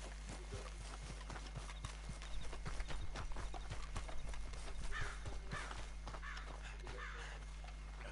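Horse hooves clip-clop steadily in Red Dead Redemption 2, the rhythmic knocks moderately close over a steady low hum, with occasional crow caws in the background.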